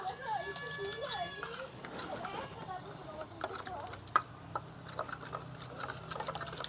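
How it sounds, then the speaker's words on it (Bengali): A spoon whisks a batter of flour and cornflour in a bowl, making quick, light clinking and tapping strokes under steady talking. "ময়দা আর কর্নফ্লাওয়ারটাকে ভালো করে আমি একটু গুলে নেব।"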